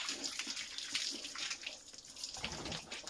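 Water splashes and pours while pigs are bathed on a farm, a faint, uneven run of sloshing and trickling with intermittent splashy bursts, no voices.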